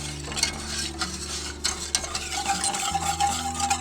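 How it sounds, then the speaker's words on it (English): Milk being whisked into a mixture in a bowl for wild-caught trout patties, a quick busy scraping and stirring rattle close by, steady throughout with no talk. "I usually add a little bit and then get it nice and whisked up so there's no clumps"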